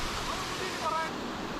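Thirparappu waterfall in Kanyakumari pours with a loud, steady broadband roar of rushing water that fills the whole stretch. The sound is close and constant, with a voice faintly audible through it.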